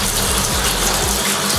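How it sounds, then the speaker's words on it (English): Vinegar pouring down through a hole into a 55-gallon steel drum for rust removal, a steady continuous gush of liquid with low hollow rumbling from the tank, close and fairly loud throughout. "we're gonna go ahead and pour this vinegar right down that hole"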